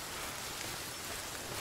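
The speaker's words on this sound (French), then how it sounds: "Bon, là il pleut." Steady rain falls in the Sons Of The Forest survival game, a soft even hiss of drops on surfaces, quiet and continuous with no voices.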